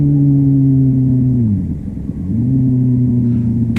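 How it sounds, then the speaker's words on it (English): A motorcycle engine hums steadily, then drops away as the rider downshifts with a throttle blip, the revs sagging briefly before the engine note climbs back to a steady drone, close and loud. "he's revving the motor, but the clutch release is so slow he loses all the revs from his throttle blip"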